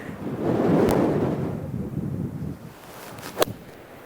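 Gusty wind on a golf course in stormy weather buffets the microphone, a rough low rumble that swells early, eases off and leaves a faint rustle with a brief knock near the end.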